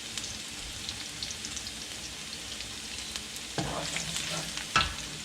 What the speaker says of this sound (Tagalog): So ngayon manggigisa na tayo.